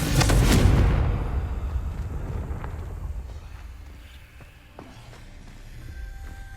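A Confringo fire spell blast in Hogwarts Legacy, a loud booming burst at the start that fades into a rumbling tail, followed by softer game ambience and faint footsteps.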